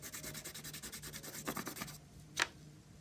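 Green chalk rubbed on pavement, a dense raspy scraping in quick repeated strokes that stops, followed by one short scratch, close and fairly quiet.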